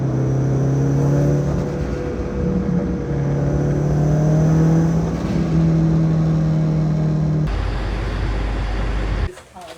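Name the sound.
Subaru WRX car driving and revving in a garage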